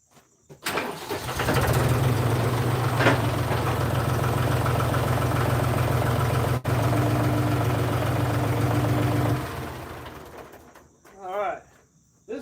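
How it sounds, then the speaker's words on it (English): A tractor engine rumbles steadily at close range, a low continuous drone that holds for several seconds before cutting off, with birds and insects faintly audible outdoors afterward. "Let's raise up the tractor here real quick"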